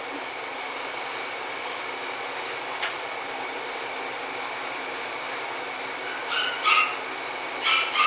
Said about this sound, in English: Might get a little loud in here. I'm turning on a fan.